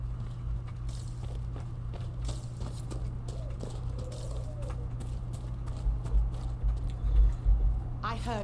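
Horse hooves clip-clop at a steady walking pace close by in the video game Dragon Age: Inquisition, over a low constant hum, with a voice speaking in the background.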